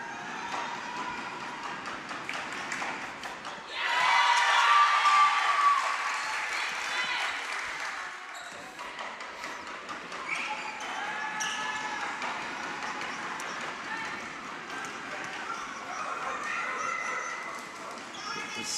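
Scotland supporters in a girls' basketball crowd at an Ireland v Scotland game roar and clap to distract an Irish free throw shooter, a loud surge of cheering and shouting that stays busy throughout, with a commentator's voice mixed in.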